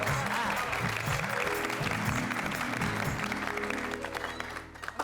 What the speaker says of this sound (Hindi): इसी बात पे बापूजी के लिए जोरदार तालियां हो जाए।